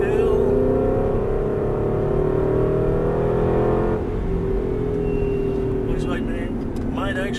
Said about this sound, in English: Go ahead and throttle through the turn